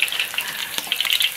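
Pork tail deep-frying in oil, a dense close crackle and sizzle with bursts of popping spatter, steady throughout a brief stretch with no voices.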